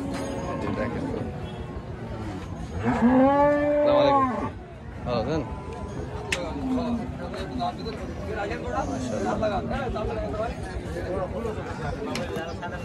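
Cattle at a busy Bangladeshi cow market, with one loud, drawn-out moo close by early on, surrounded by constant crowd chatter and people talking nearby.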